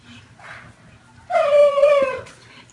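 A dog sings a gargly, wavering howl: a single sustained, loud warbling cry that rises after a quiet moment of soft snuffling, then breaks off.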